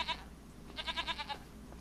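A goat bleats in Farming Simulator 25, a short cry followed by a longer, rapidly pulsing, quavering bleat, fairly close and clear over a quiet farm background, with no talking.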